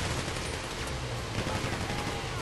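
A Grand Theft Auto Online shootout fills the air with steady, dense gunfire, overlapping rapid shots forming a continuous noisy barrage that stays loud from start to finish.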